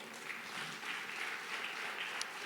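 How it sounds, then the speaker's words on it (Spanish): A congregation at a church sermon gives a steady wash of applause, faint and somewhat distant, continuous from start to end with no voices over it. "Del otro fuerte aplauso al Señor"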